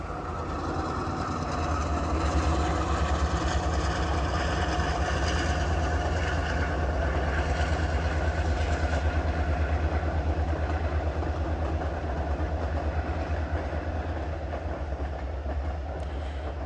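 The Big Boy train rolls steadily along a mountain railroad through a rock cut, producing a loud, continuous low rumble with faint rhythmic clatter and no talking.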